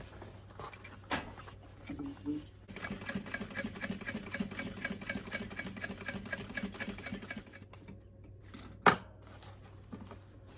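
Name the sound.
sewing machine stitching a zipper on a toiletry bag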